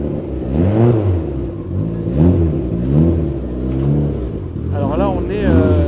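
A human voice imitates a rally car engine revving, giving loud, close, repeated rising and falling vroom sweeps in a steady rhythm.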